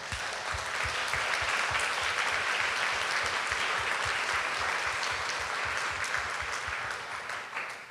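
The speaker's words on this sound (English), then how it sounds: "Let's have a big round of applause for our panel." A conference audience applauds a plant conservation panel, with loud, steady clapping that carries through nearly eight seconds before tapering slightly at the end, and no speech over it.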